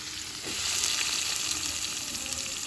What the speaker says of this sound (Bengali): পেঁয়াজের স্যান স্যান শব্দ